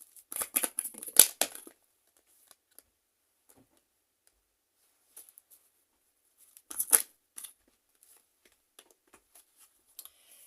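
Tarot cards handled and drawn close by: two short bursts of crisp shuffling, flicking and rustling, separated by long quiet stretches with faint single clicks.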